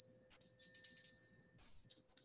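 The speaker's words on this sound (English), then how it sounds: "As you hear the bells, Caradwyn takes her place and returns to her" Small high bells chime in short bursts, bright and ringing with brief pauses between, clear against a quiet background during a spoken Samhain ritual meditation.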